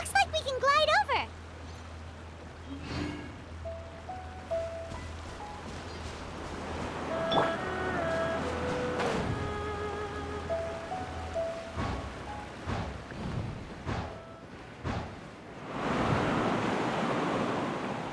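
Wind blows through the video game Genshin Impact, a soft, airy rush that sits behind voices and game music and swells near the end.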